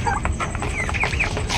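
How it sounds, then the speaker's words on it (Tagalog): Turkeys gobbling and clucking close by, several birds calling over each other in a continuous noisy chorus. "Ganda ng mga pabo ko."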